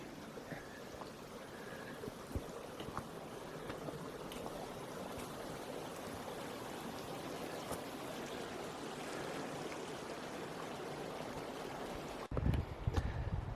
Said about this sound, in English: Another stream to cross here.